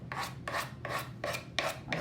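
Wood is rubbed by hand with 100 grit sandpaper while a decoupage piece is prepared, six or so even back-and-forth rasping strokes, close and clear, with no voices.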